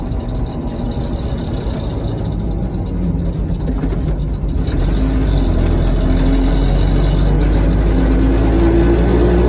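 A Piaggio Ape 50 three-wheeler drives along, its small engine droning loud and close inside the cab, with the pitch shifting and the low rumble getting heavier partway through as it pulls harder.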